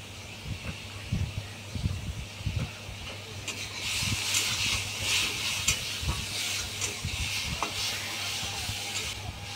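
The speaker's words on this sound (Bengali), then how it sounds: "দেন আমি একটুখানি তেল দিয়ে তার মধ্যে চিংড়ি মাছগুলোকে একটু লবণ আর হলুদ দিয়ে ভালো করে ভেজে নেব" Shrimp fry in a little oil with salt and turmeric in a pan, with a soft hiss that swells into a steady sizzle halfway through, and occasional low stirring knocks underneath.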